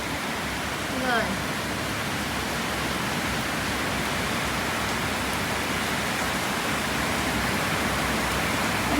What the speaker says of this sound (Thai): อ๋อฝนยังสาดอยู่นะ